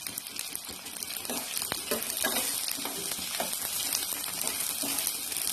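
Onions with salt and asafoetida sauté in a pan, a dense, lively sizzle with scraping stirs and crackles, close and continuous.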